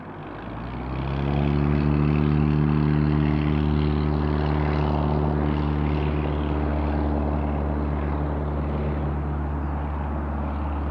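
A light propeller plane doing a touch and go at Gillespie Field, San Diego: its engine hums steadily, swelling as it nears and then holding a strong, even drone with clear harmonic tones.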